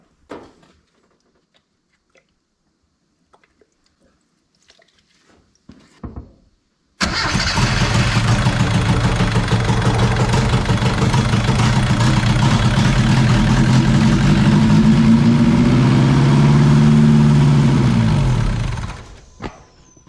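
A mini truck's engine cranks and catches after a little fuel is poured in, then runs loud and steady at a rough idle for about twelve seconds before cutting off, following near silence.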